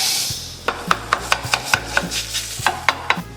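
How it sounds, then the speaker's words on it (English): Jimmy Dean hot sausage cooks in a pan, with a soft sizzle under a string of sharp scraping and chopping taps from a utensil breaking up the meat, close and fairly loud, in an irregular rhythm. "Jimmy Dean hot sausage going into the pan where we chop the veggies"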